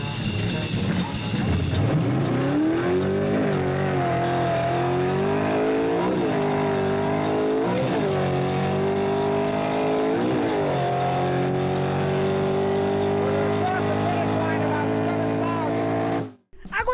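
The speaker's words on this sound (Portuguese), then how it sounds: "Let's ride with Ed as he drops the hammer and really puts it to the wood" Ford Cobra Jet drag car accelerating hard down a drag strip, a loud continuous engine roar rising repeatedly in pitch through several gear shifts before cutting off abruptly near the end.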